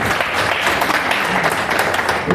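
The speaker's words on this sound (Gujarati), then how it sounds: "એક જોરદાર તાળી એમના માટે" Brief burst of applause from an audience at a business presentation, honouring Dipika Shah; dense, steady clapping fills the whole moment without any voice over it.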